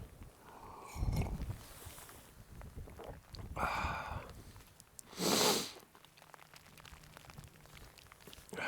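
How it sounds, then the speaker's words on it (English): Several quick nasal sniffs out in cold moorland weather, close and a few seconds apart, over a faint windy background. "Sorry about the sniffing."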